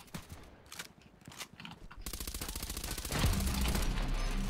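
Suppressed MP5SD fire in the shooter game Contract Wars: scattered single shots at first, then a fast continuous automatic burst that grows louder and denser toward the end, with faint mechanical clatter.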